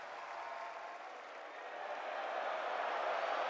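An esports arena crowd at the CS2 Austin Major 2025 cheering for the player Apex, a faint, distant, broad roar of cheering and clapping that swells toward the end.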